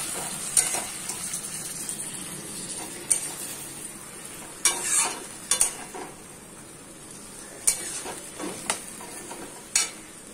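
Water added to a frying spice masala sizzles quietly under repeated sharp clinks and scrapes of a spoon against the pan as it is stirred, close by and without talk.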